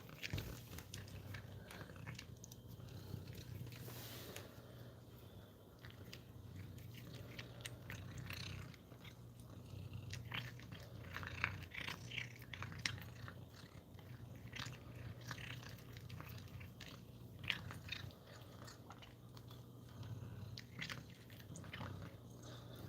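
Soft, close crunching and chewing sounds repeat irregularly, like a cat eating small treats, with a faint low hum in the background.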